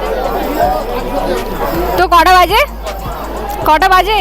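Dense crowd chatter at Chandannagar Jagadhatri Puja late at night, a continuous babble of many voices close around, with nearby people speaking over it.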